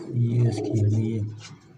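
Pigeons coo close by in low, throaty, rolling calls that repeat in quick succession over a couple of seconds.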